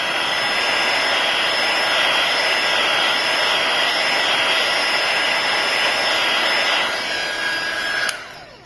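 Steady loud blowing roar of a heat gun warming the edges of a broken iPhone 5 front glass, running continuously close up and dropping away sharply near the end.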